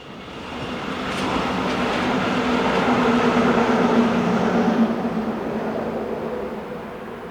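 An older Swiss Class 560 passenger unit on a Muri to Zurich mainline service passes by, a steady rumble and rush of wheels on rail that swells loud and then slowly fades, with no voices.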